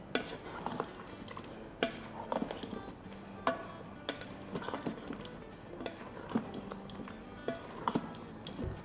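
Potatoes and eggplant are stirred together in a pan, quiet irregular clinks and scrapes of a spoon against the metal, repeating roughly every second, with a soft sizzle underneath.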